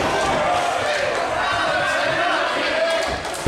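A wrestling crowd at a Wrestle Island show cheers for Terry Izzet with a steady, dense roar that holds without a break, while a commentator talks over it.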